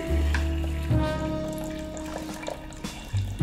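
Pot roast cooking liquid poured back into a pot, a steady close splashing pour with a gurgling low tone that tapers off, then a few small clinks.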